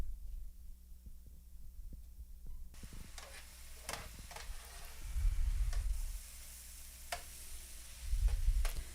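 Mushrooms seasoned with onion powder and garlic powder fry in a pan with a soft, steady sizzle, broken by a few sharp clicks of stirring and two louder low thumping bursts.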